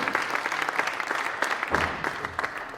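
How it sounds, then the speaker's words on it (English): A crowd at a Bitcoin conference applauds a panel of speakers, steady moderate clapping across the hall with a faint voice underneath. "Please give him a round of applause."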